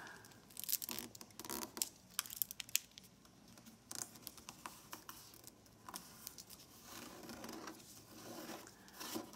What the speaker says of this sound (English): now we're going to fold this edge up to this edge